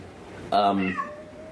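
A person imitates a cat's meow in one short, bright, nasal call with a falling tail, delivered close and alone against a quiet room.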